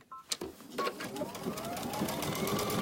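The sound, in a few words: sewing machine stitching buttonholes on a dress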